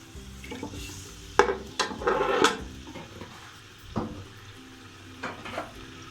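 Onions going into two ladles of hot oil in a pot for chicken tikka biryani, with a few sharp clatters and a brief sizzling burst, followed by quieter stirring and scattered utensil knocks.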